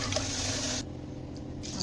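Water splashes and swirls briefly as soaked chickpeas are rinsed in a container, pausing for a moment before the sloshing resumes.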